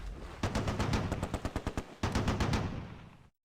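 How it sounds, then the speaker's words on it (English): An MG42 machine gun in the World War II game Close Combat fires two rapid bursts of sharp, evenly spaced shots, loud and near, each burst lasting under two seconds with a short pause between, with no talking. "Webb 76 identifies an MG42 in the field across the hedge and opens up."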